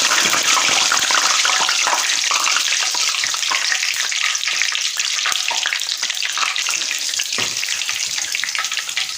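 Bhalle batter drops into hot oil and fries with a dense, loud, continuous sizzle and crackle that holds steady throughout, with no talking.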